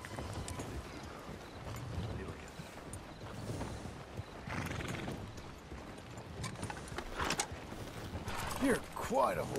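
A horse in Red Dead Redemption 2 gives a whinny and clopping hooves at the Strawberry stable, with wind and ambient noise behind and a voice talking over it.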